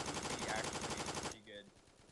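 Rapid automatic MP7 fire in the mobile shooter Forward Assault, a dense, loud burst of rattling shots lasting over a second before cutting off abruptly.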